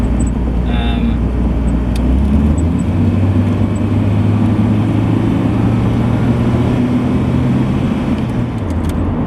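A Volvo 740GLE drives along the road, its engine droning steadily under loud, constant road and wind noise heard from inside the car, with the engine note rising slightly midway.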